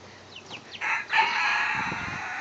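Chickens in a farm coop cluck and squawk in short bursts, with a brief crow-like call rising partway through, close and moderately loud over a steady hum.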